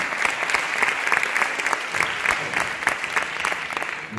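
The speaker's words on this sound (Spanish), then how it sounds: "solo aplaudáis cuando dice que hay gente con mucho talento" An audience at a round-table panel discussion on technology and creativity claps steadily, a loud, dense wash of applause from a crowd with no voices over it.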